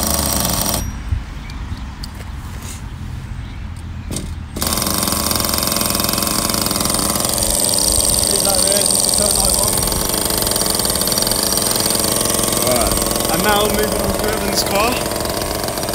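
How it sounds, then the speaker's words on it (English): A nitro RC car engine runs and revs up after a long-unused start, a loud continuous buzzing drone filling the clip from about five seconds on, with people talking over it. "And now that one's running. We're gonna let it run up."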